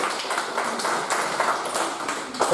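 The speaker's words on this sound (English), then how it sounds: "Round of applause for the ladies" A small audience claps for the ladies after a live sausage-making demonstration, with dense, steady applause close by that lasts the whole moment.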